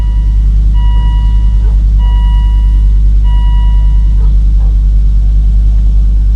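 A Volvo V70 engine running at high idle just after a cold start on a freezing day, a loud, close, steady low rumble with a repeating electronic beep chiming over it.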